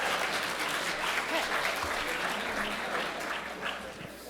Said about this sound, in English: join me in giving a warm welcome to our moderator